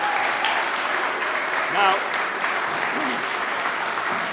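Audience applause fills an awards dinner hall for the Rhode Island Labor History Society, a steady wash of clapping heard throughout, with a voice speaking over it.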